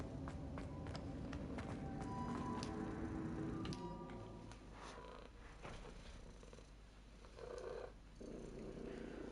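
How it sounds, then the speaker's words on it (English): A cat's low, steady purr rumbles close by for several seconds in the game Hogwarts Legacy, with a few soft taps and light shuffling sounds over it. "You might be able to hear him purring away."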